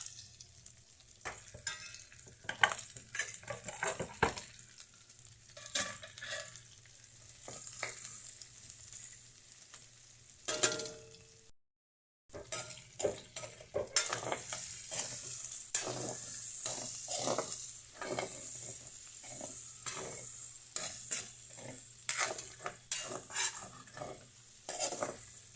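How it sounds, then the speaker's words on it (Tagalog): Garlic and onion sizzle and fry in hot cooking oil while being stirred in a pan, a steady loud crackle with scraping and clinks of a utensil, broken by a brief pause. "Ilagay na natin yung ating bawang at saka sibuyas."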